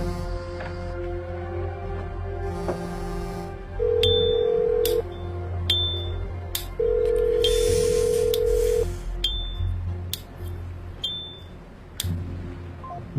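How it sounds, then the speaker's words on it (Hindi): A phone goes unanswered: a repeating electronic ring tone sounds in two bursts, with sharp digital beeps and clicks between them, over a low steady hum in a dramatic film scene. "डिटेक्टिव जो फोन नहीं उठा रहे।"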